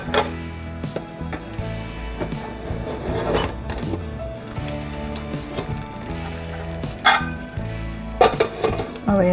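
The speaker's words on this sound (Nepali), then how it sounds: "अब यसलाई बिस्तारै चलाइदिउँ।" Cooked kwati, a mixed-bean stew, being stirred in an opened pressure cooker: irregular scraping and clinking of a utensil against the metal pot, with a few louder knocks near the end.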